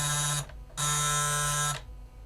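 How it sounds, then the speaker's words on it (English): A Six Million Dollar Man O.S.I. Headquarters toy playset button buzzer sounds twice, a short electronic buzz followed by a longer one after a brief pause, loud and close. "The top button activates a buzzer"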